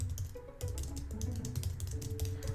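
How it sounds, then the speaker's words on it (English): Rapid clicking and clacking on a computer keyboard runs throughout, close and steady, over a low hum of background game sound. "Sorry for the clicking, guys. I know you guys hate when I type on my keyboard."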